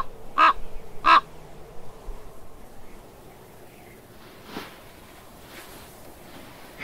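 Carrion crows call outdoors near a golden eagle: two loud, harsh caws in quick succession, then a few fainter, more distant caws over a quiet background.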